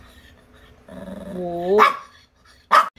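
A small Maltese dog growls low and rising, then lets out two sharp, close barks with a pause between them; a brief voice is heard.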